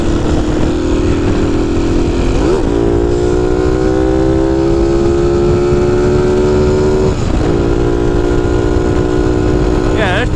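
A Honda Cub motorcycle on the move, its small engine droning steadily and loudly up close with rising pitch through the gears and brief shifts between them, under heavy wind noise.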